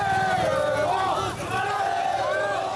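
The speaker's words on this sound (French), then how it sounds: "Une foule haranguée, des supporters tout feu tout flamme pour encourager et accompagner le bus des Manceaux." Le Mans FC supporters fire up a dense, loud crowd roar of cheering and chanting voices as their team bus arrives before the PSG match, sustained throughout without pause.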